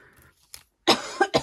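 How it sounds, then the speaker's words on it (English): A couple of sharp, close coughs burst out back to back after a faint moment of quieter sound, loud against an otherwise near-silent room. "Just coughing away"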